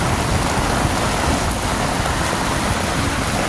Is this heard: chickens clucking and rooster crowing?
no